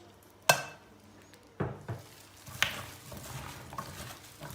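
Potatoes being tossed by hand with salt and cooking oil in a bowl, a few sharp knocks followed by soft, uneven rustling and slapping, close and fairly quiet.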